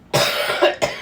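A single person coughs up close, a sharp burst followed by a second shorter cough, loud and alone with no talk over it, at a crafting table.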